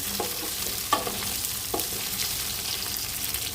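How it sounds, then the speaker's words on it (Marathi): Boiled ingredients for sabudana khichdi are lightly sautéed in a pan, giving a steady sizzle close by with a few distinct spoon scrapes and no speech. "लाईटली आपण असं परतवून घ्यायचं तर मी थोडंसं परतवून घेते"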